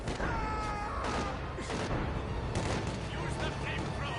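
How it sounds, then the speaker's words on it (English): Tanks shelling an enemy base in the video game Company of Heroes 2, sharp gunfire and artillery bursts cracking repeatedly over a dense, constant battle din, loud and close. "my tanks are just sat here like something out of Kelly's Heroes, shelling them"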